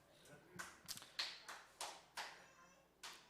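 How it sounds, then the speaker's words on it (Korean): Quiet, scattered handclaps from a church congregation during a Sunday sermon: about eight distinct claps, loosely spaced over a few seconds, soft and somewhat distant. "설교하다가 박수 받는 건 또 처음입니다"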